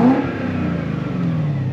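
A BMW 5 Series with a V8 engine and six-speed gearbox revs up, a loud close engine roar that builds briefly on its own.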